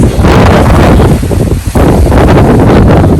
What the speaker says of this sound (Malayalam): ഭയങ്കര കാറ്റാ ഇവിടെ